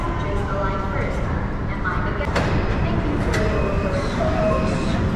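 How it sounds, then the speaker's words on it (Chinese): A driverless metro train pulls into a station in Wuhan, a loud steady rumble and rush of wheels filling the whole stretch, with people talking in the background. "地铁来了。"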